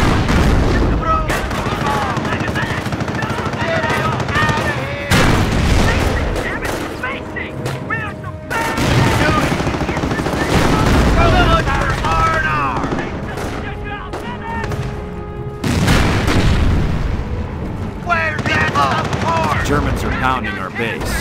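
Battle sounds from the video game Company of Heroes: dense, continuous gunfire and machine-gun bursts with booming explosions fill the scene, mixed with in-game voices shouting orders.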